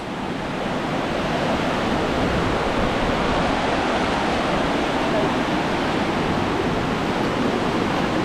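Strong river current rushing under a bridge, a loud, dense and unbroken wash of flowing water close by with a steady roar throughout.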